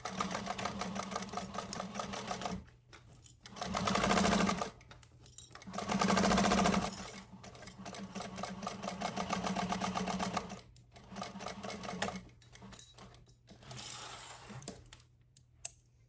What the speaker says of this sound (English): And then we can stitch down that edge.